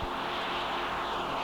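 A de Havilland Dominie biplane makes a high-speed run at a 1984 air show in Masterton, New Zealand, its propeller engines giving a loud, steady, unbroken drone.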